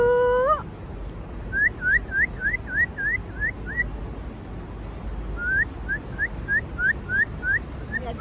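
Birds in the video game Free Fire give a short high chirp, then two runs of quick, evenly spaced rising whistles. The whistles are clear and fairly close, over soft game background noise, with no talking.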